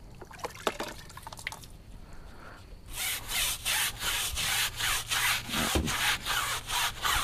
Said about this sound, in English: So I'm gonna grab my wheel brush to start.